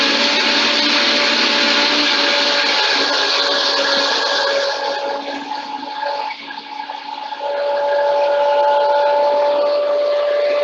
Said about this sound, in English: If you're using a regular blender, you may just need to blend a little longer.